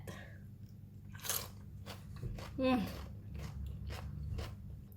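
Raw cucumber dipped in Thai sambal belacan, bitten and chewed near the mouth: a sharp crunchy bite, then soft wet chewing that keeps going over a quiet background.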